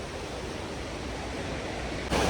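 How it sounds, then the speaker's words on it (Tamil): Water rushes steadily near a waterfall and dam at Valparai, a dense, continuous roar of flowing water with no talking, growing abruptly louder at the very end. "இங்கே பாருங்க தண்ணி அங்கங்கே ஓட போயிட்டே இருக்குது"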